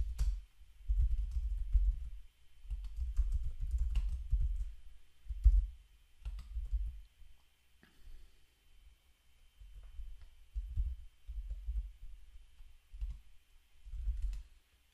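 Quiet keyboard typing at a computer, soft irregular clicks in bursts with brief pauses, close and alone without talk.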